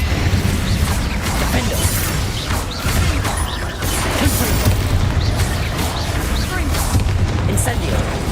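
An Incendio fire spell cast in Hogwarts Legacy, with a loud run of crackling bursts, crashes and thuds that pile up over several seconds of hectic spell combat.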